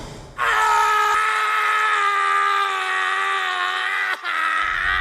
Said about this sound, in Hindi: दरवाजे के बाहर लेखक की दर्द से कराहने की आवाज सुनाई देने